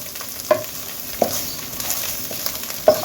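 Spices including cinnamon and cloves sizzle steadily in hot oil, punctuated by three sharp clicks of a spoon stirring against the pan. No voices.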